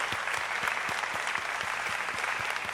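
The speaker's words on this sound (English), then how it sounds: "allow me to give a big applause to Martin Shaw for" An audience applauds the speaker at an annual lecture, a thick and even wash of clapping with some distinct claps standing out near the front, sustained throughout.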